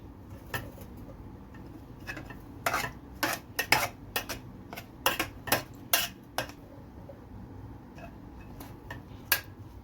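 Bread cubes are stirred into a pizza base mix in a bowl, giving a quiet run of sharp, irregular clinks and scrapes of a spoon against the dish, with no talking.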